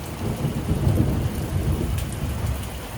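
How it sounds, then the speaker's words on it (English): Loud, close thunderstorm overhead, with a continuous deep rumble of thunder rolling beneath steady heavy rain pattering on surfaces, sustained throughout with no talking. "Full on crazy storm."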